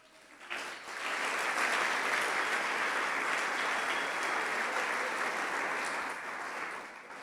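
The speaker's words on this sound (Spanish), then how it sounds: "recibimos con un fuerte aplauso a Gigi." An audience at a talk greets an arriving guest with strong applause, clapping swelling quickly after a brief pause and holding full and steady for several seconds before easing slightly.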